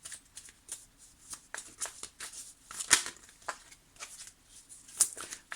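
Tarot cards shuffled by hand in a steady run of crisp riffles and soft slaps, with several sharper snaps standing out, close and alone with no talking.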